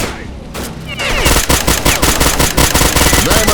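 Rapid automatic gunfire in the video game S.T.A.L.K.E.R.: Clear Sky, with dense overlapping bursts of shots that start abruptly and keep going loud and close, after a brief quieter lead-in.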